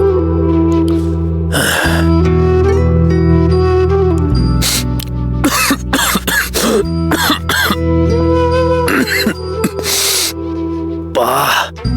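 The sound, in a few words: woman coughing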